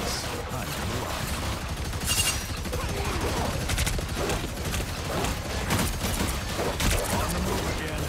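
Punisher's heavy weapon firing in Marvel Rivals, rapid bursts of loud gunfire with mechanical clatter, some sharp cracks standing out, mixed with game sounds and background voices.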